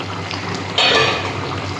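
Elephant foot yam and prawn curry bubbles in a pan, giving a soft steady simmer with a brief louder burst of bubbling or liquid splash midway.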